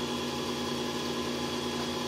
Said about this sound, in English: That's the unit operating at its lowest level.